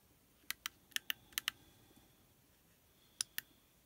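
Keys clack on the small keyboard of an Armachat messaging device, close and crisp, in a quick burst of about six taps followed by a pause and two more taps against a quiet background.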